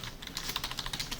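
Quick clicky keystrokes on a computer keyboard during coding, a dense run of sharp taps with no pauses for over a second, close and fairly quiet with no talk.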